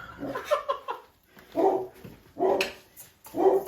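A household dog barks in four separate bursts spaced about a second apart, fairly close and loud, with brief quiet gaps between them.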